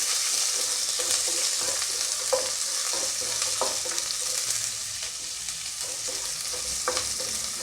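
Chopped onion fries lightly in a pan for a pea and potato kurma, with a steady moderate sizzle and a few soft stirring taps and scrapes throughout.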